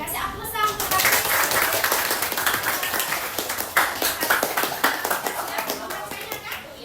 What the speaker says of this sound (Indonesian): Kasih aplaus untuk Raffi.